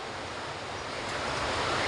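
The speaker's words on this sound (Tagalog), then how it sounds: "Napakalakas talaga ng ulan." Heavy rain pours down in a steady, broad hiss that swells slightly louder toward the end, with no one speaking.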